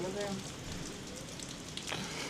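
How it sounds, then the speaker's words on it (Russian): Steady rain falls outdoors, a continuous soft hiss of drops with a faint voice briefly audible near the start. "На улице по-прежнему идет дождик."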